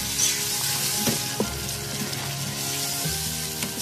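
Chicken karahi with yogurt and spices cooks in a pan, a dense continuous sizzle with a few soft knocks and stirring sounds near the cook and no speech.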